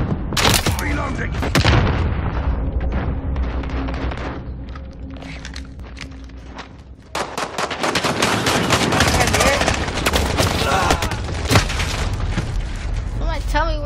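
Rapid bursts of automatic gunfire and heavy booms from Call of Duty: Black Ops gameplay, loud and continuous through most of the stretch, with a quieter lull in the middle and voices talking over the shooting.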